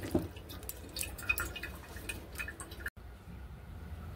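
Diced young jackfruit is washed in water, with splashing and dripping sounds for a few seconds that cut off abruptly, followed by quieter background noise.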